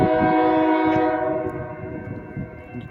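A Union Pacific mixed freight train approaching Oakland's Jack London Square, its multi-tone horn blaring loud and sustained with rumbling wheels underneath, fading slightly as it continues, with no voices.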